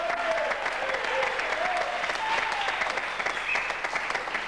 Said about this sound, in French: Frédéric, pour commencer, on l'applaudit très fort puisque c'est la seule femme.